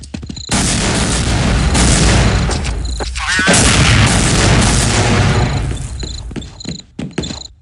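Gunfire in Counter-Strike: Condition Zero, dense and loud, running almost without a break and dipping briefly before picking up again.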